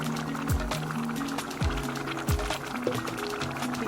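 Fresh sliced tomatoes and pepper drop into a bubbling egg stew, giving soft wet plops and a steady, liquid simmering sound close by, with faint background sounds woven through.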